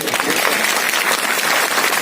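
Dense, steady applause from a large crowd at an outdoor Dhamma festival fills the whole stretch, loud and continuous with no pauses.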